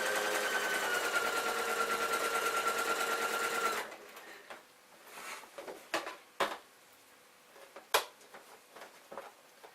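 A sewing machine runs a continuous stitch along jeans fabric, a steady close mechanical whir for about four seconds that then stops, followed by a few scattered handling knocks and rustles.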